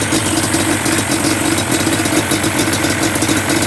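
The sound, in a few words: 2005 Yamaha Banshee engine idling after rebuild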